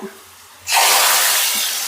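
A dal tempering sizzles in the pan, a sudden loud hiss that bursts in after a quiet moment and holds steady, fading only slightly toward the end.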